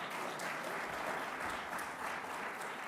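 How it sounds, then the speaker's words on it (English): An audience at a press conference about reducing crime on Long Island applauds steadily, a soft but continuous patter of many hands clapping with no one speaking over it. "Let's give them a round of applause."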